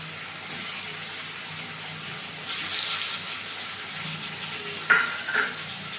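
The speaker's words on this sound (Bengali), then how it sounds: "প্রথমে পনিরটা ভেজে তারপরে আবার পনিরটা পনিরগুলো ভাজা হয়ে গেছে, তুলে দিচ্ছি।" Paneer cubes frying in hot oil, a steady close hiss and sizzle throughout with a couple of brief clinks near the end, no talking.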